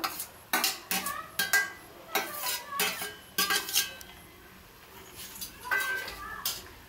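A utensil scrapes and clinks against a pan as noodles and scrambled egg are stirred together, with irregular bursts of metallic scraping and pauses between them, up close, while a person talks intermittently.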